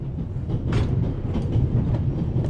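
A train rolling on rails in The Raven Remastered video game: a steady low rumble of wheels on track with rhythmic clickety-clack beats and occasional creaks, continuous and close, with no voices.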